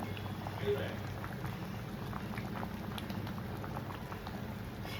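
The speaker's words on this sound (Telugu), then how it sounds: "ఇలా మరగాలండి" Andhra-style pappucharu, a lentil sambar, bubbles in a pot, soft continuous popping and gurgling at low volume with faint scattered bursts throughout.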